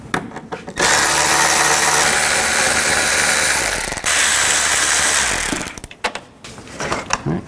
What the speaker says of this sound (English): Use a 10 millimeter socket. Take these two bolts out up here and take this bolt out down here.